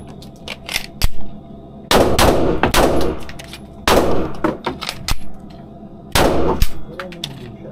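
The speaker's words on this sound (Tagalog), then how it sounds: "Firing. Firing." Gunfire echoes through an indoor shooting range in several bursts of loud, sharp shots, some in quick rapid strings, separated by short pauses with ringing metallic clangs.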